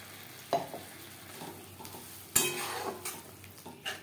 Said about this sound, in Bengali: মিডিয়াম টু লো ফ্লেমে 3-4 মিনিট মশলা বেশ ভালো করে কষিয়ে নেব।